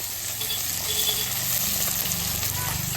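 Small fish frying in a pan, with a steady loud sizzle and hiss of hot oil that runs through the whole stretch, with faint voices underneath.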